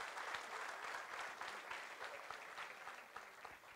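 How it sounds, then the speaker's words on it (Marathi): Steady audience applause from a crowd at a live stand-up comedy show, dense clapping filling the room throughout without a break. "टाळ्या होते शंभूसाठी"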